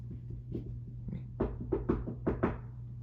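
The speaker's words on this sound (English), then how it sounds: "A soft knock sounded on her dressing room door." Soft knocking on a dressing room door, a few light raps that grow into two close pairs of taps, heard alone over a low steady hum.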